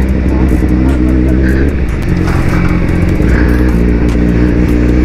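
A big bike motorcycle engine drones loudly and steadily while riding along a city bike lane, with a voice speaking over the engine noise.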